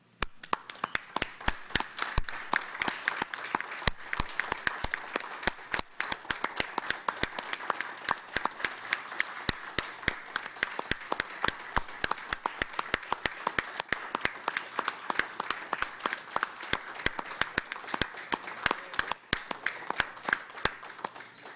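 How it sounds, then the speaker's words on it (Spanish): Parliamentary deputies applauding doctors during a session, a sustained crowd of sharp, distinct claps rattling continuously and evenly for over twenty seconds, close and fairly loud. "que por favor todos los que estemos aquí les regalemos un fuerte aplauso"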